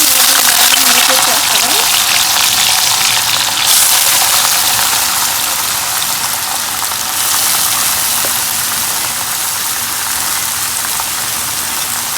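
Seeds frying in hot oil in a pan for Telugu-style banana curry: a loud, dense, continuous sizzling hiss that stays steady throughout, with a faint voice underneath.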